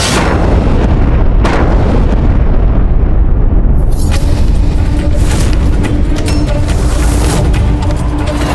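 Mughal cannon artillery fire on a battlefield, heavy booming blasts merging into a dense continuous roar of explosions, loud and close, with no voices.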